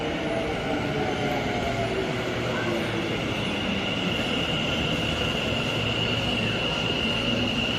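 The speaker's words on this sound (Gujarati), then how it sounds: "હા, જો મેટ્રો આવી ગઈ છે." An Ahmedabad metro train pulls into a station at Old High Court, a steady loud rumble of rolling wheels with faint high squealing, continuous for the whole stretch.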